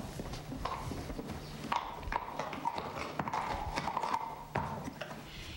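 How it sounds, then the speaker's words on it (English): A 10-year-old purebred Arabian horse walks with steady, evenly spaced hoof clip-clops on a hard surface, moderately close, with faint background noise. "Meet 19-year-old Caitlin Thomas and her purebred Arabian and best friend, Angelica Bay."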